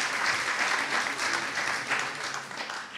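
An audience applauds at a fashion tech event talk, a dense, steady wash of clapping hands that holds at full strength for a few seconds before easing slightly.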